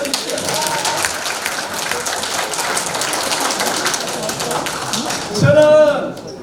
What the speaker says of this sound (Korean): 박수 한 3개 쳐주십시오.